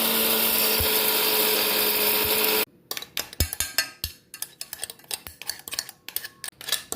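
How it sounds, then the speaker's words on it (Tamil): A mixer grinder grinds roasted dried shrimp (chennakunni) into powder for idli podi with a loud, steady whirring that stops after a few seconds. A series of sharp knocks and rattling clinks follows. "இப்போ தூள் அரைக்க போகிறேம்மா."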